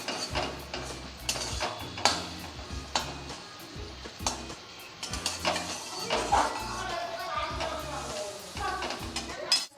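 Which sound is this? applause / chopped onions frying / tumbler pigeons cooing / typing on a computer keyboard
chopped onions frying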